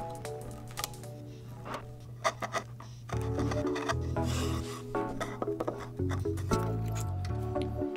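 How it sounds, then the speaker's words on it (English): Chisel cutting a wire slot into plywood for a lamp base, close, dry scraping and rasping strokes with short pauses between them, quiet and without talk. "You didn't know you could cut plywood with a chisel, did you?"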